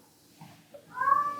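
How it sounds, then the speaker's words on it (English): A cat meows once, fairly loud and close, a drawn-out rising cry after a few quieter shuffling sounds. "Y'all heard my cat?"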